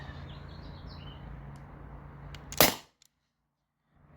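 Modified T4E HDP50 Gen 1 pistol running on 900 PSI HPA fires a single sharp, loud shot, cracking abruptly through faint birdsong outdoors, followed by near silence.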